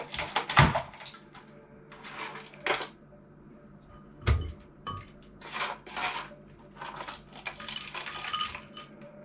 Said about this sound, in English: So let me see if I can get these frozen berries into the blender.